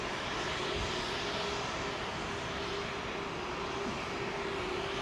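A large double-decker airliner at London Heathrow on runway 27L, heard as a steady, broad engine roar that holds at an even level throughout, with no speech over it.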